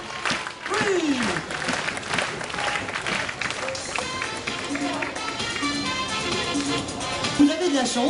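A crowd applauds and claps in rhythm at a sea lion show at Nigloland amusement park, loud and continuous with music and an announcer's voice over the top.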